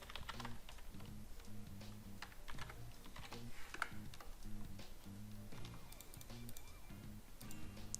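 Steady, quiet clicking of a computer keyboard being typed on at a desk, keys tapping in irregular quick runs throughout, with no talking.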